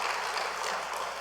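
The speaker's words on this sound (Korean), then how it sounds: "우리 따뜻한 격려의 박수 우리 한번 해주시고요" Church congregation applauding at a Sunday service in warm encouragement for a bereaved family, a short, steady burst of dense clapping filling the hall at moderate volume.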